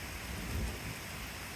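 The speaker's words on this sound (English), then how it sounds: "And here comes the thunder." Thunder rumbles low and close under steady heavy rain during a nearby thunderstorm, swelling briefly in the middle and then easing back into the constant patter of rain.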